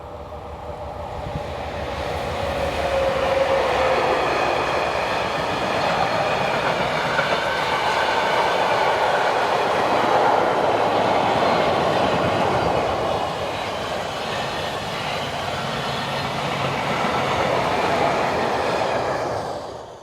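Electric locomotive 11-16-149 hauling a train from Vienna to Nuremberg around a bend, swelling in and holding a loud, steady rumble with wheel clatter and a brief tonal whine early on, then easing off at the end.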